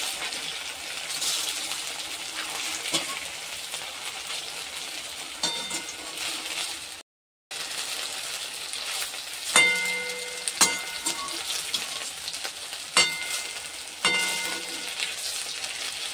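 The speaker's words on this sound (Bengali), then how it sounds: "এই বরফিগুলো এবার তেলে এপিট ওপিট করে শুধু হালকা করে ভেজে নেব।" Pieces of gram dal and pointed gourd barfi fry in hot oil, a constant soft sizzle broken by a few clinks of a utensil against the pan and one brief gap.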